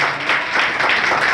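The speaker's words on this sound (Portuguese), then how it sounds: "Uma salva de palmas aqui para a companheira." A brief, dense burst of audience applause at an education seminar, steady and fairly loud for about a second and a half with no talk over it.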